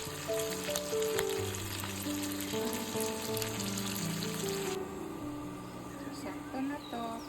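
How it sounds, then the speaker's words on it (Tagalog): Pork browns in a pan with tomato and ginger for pinakbet, a continuous sizzle sitting under background music with a clinking rattle of the pan, while a voice talks quietly over it. "Pinapa-brown natin yung pork."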